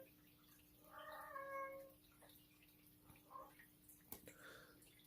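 A single clear meow from a house cat sounds indoors, followed by a couple of faint, shorter mews and small clicks over a low room hum.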